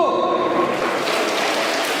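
An audience of graduate students and staff in a hall taps one finger rapidly against their palms, producing a dense, hissing patter that imitates rainfall, steady and fairly loud throughout.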